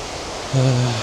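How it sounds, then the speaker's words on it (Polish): A river waterfall on the Monsal Trail in England makes a steady, broad rushing hiss, with a brief voiced sound rising over the water partway through. "Nie wiem, czy to główny wodospad, czy to dopiero jeden z wielu."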